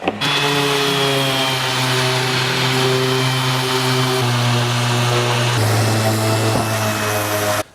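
A power sander whines continuously against wood, loud and close, its pitch shifting slightly as pressure changes, running alone for several seconds.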